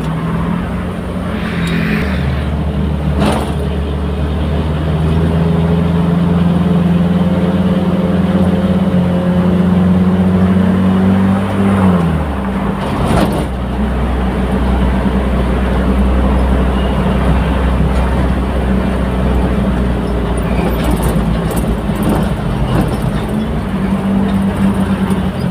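Slow, congested city road traffic on EDSA in Metro Manila near SM North, with a continuous loud drone of idling car engines and occasional revving, steady throughout with no talk.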